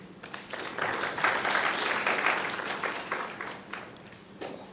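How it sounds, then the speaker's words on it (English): An audience at a petroleum policy consultation meeting in Rundu applauds steadily for several seconds, the clapping swelling and then gradually fading out. "May you give him a round of applause"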